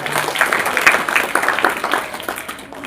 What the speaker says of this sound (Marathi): त्याच्यासाठी पण टाळ्या वाजवा